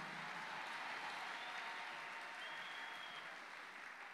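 Worshippers at a sermon keep up a continuous round of clapping, an even, crowded patter that holds steady throughout, heard from a little distance and at modest volume, with no talking.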